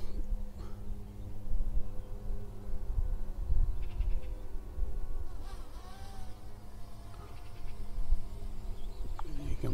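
A DJI Mini 2 drone hovers overhead outdoors, giving a steady, faint insect-like buzz that continues throughout with slight shifts in pitch.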